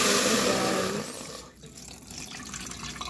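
Water runs from a tap into a pot to be heated for fish and vegetable soup, a loud close gush that tapers off after a second, followed by quieter dripping and handling sounds.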